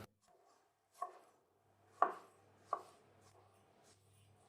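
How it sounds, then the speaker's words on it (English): A knife cuts an orange into thick slices on a cutting board, three distinct close chops spaced about a second apart, with quiet handling sounds between and no talk. "And now just cut it in half and then slice it into really thick pieces."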